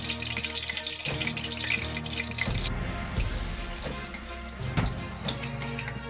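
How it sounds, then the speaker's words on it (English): Palm oil, 450 ml, goes into a pot for a Nigerian eggplant stew, a continuous liquid pour with dripping and splashing, loud and close over a busy kitchen background. "First thing I'm going to do is to add a palm oil."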